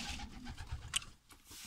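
Pigeons in a loft with nests, giving soft low coos that overlap in a continuous murmur, with a brief bright flutter partway through and no voices.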